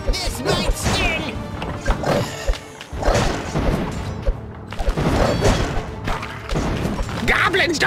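Explosions, thuds and crashes boom repeatedly in a Kingdom Rush Vengeance tower-defense battle, dense and loud over continuous game sound, with character voices talking over them.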